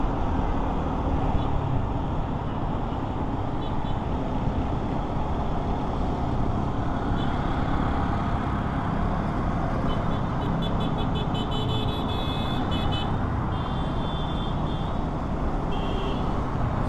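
Heavy road traffic in a jam in Dhaka, heard from a Hero Xtreme 250R motorcycle, with a dense continuous roar of engines and occasional faint horn toots.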